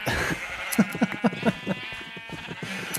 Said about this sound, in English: While I was exploring, I discovered that Striker has a whole bunch of sheep